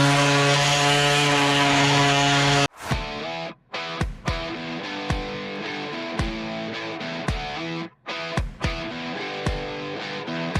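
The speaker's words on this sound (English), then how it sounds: "sanding everything." A power sander works a marble top dresser, a loud steady motor whine with strong harmonics that runs for about three seconds and then cuts off abruptly, leaving lighter rhythmic knocks and tones.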